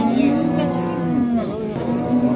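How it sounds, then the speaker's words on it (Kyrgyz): A large dairy cow moos at the Nookat livestock bazaar, a sustained low bellow that sits close and loud over the busy market murmur. "өзү да чоң уй экен"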